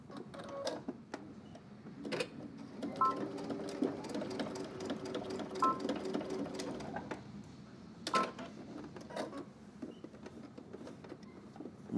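A sewing machine tacks down belt loops on baggy jeans in short bursts of stitching, with clicks and handling noises between runs, at a moderate distance and without talk.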